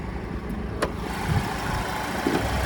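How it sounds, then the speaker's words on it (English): The 2-liter turbocharged four-cylinder of a 2023 Maserati Grecale Modena runs steadily with the hood open, a close, even low-pitched idle hum throughout. "there's that 2-liter turbocharged 4-cylinder"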